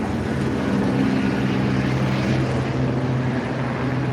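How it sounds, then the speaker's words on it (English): A helicopter flies very low over Hollywood Boulevard, making a steady, loud droning rotor and engine hum that holds throughout without a break. "Damn, helicopter, where are you?"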